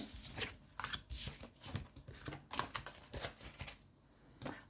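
Quick papery riffles and soft slaps of tarot cards being gathered and shuffled, close and fairly quiet, in repeated short bursts.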